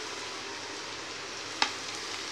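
Quiet, steady sizzling of grated garlic and ginger frying in a pan, with one brief sharp clink partway through.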